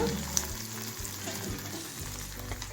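Curry leaves fry in hot oil with a steady close crackling sizzle for a few seconds under a low background hum, and nobody talks.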